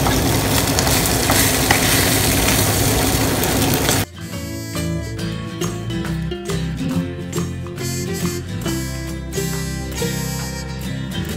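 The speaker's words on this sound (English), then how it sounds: "I'll stir it in, and that'll be my beef stir fry done" Beef stir fry with vegetables frying in a pan, a dense loud sizzle that suddenly cuts out, followed by quieter clattering and stirring sounds.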